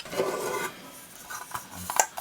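Metal pots, a kettle and pot-gripping tongs from a Trangia Storm cookset clink and scrape as they are handled, with light rattles, a rubbing scrape and a few sharp metallic taps close to the microphone.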